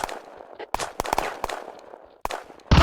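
Scattered gunshots in a squad firefight game pop out in short, sharp bursts at irregular intervals, fairly close, separated by brief quiet gaps with faint background noise.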